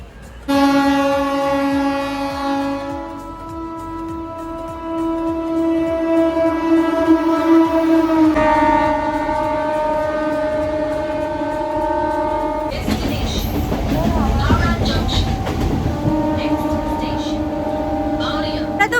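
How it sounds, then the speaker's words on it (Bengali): A train horn blares in long sustained blasts as a train rumbles closer, the horn changing pitch as it goes by, then loud clattering rail noise of the passing cars, with another train approaching. "এইদিকে একটা ট্রেন, এইদিক থেকেও একটা ট্রেন আসছে।"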